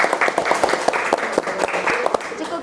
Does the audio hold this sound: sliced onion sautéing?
no